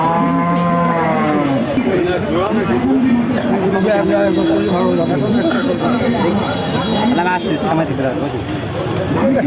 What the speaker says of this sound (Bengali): এক জোড়া গরু আপনারা দেখতে পাচ্ছেন গাছার হাটে